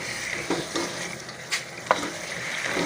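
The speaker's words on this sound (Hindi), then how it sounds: "तकरीबन 2-3 मिनट के लिए इसी तरह से भून लेंगे इसको" Meat is stirred and roasted with masala in a pan, under a constant close sizzle broken by a few soft scraping strokes of a spoon.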